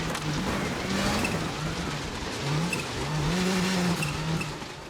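Rally car in Assetto Corsa Rally, its engine droning steadily and rising and falling in pitch with tire noise, loud and continuous with no talk.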